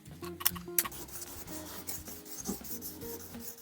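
Guitar frets are polished with 3000 grit sandpaper, a close, quiet rubbing and rasping with a couple of sharper scrapes near the start, then steady back-and-forth strokes.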